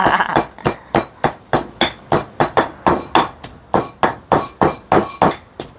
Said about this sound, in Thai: ตำพริกครับอาจารย์ตำพริกตำพริกค่ะ